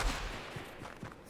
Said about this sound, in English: And now he's shooting at somebody else.